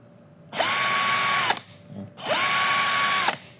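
Ingco power drill running in two bursts of about a second each, a high whining motor that spins up, holds steady and cuts off, with a short pause between.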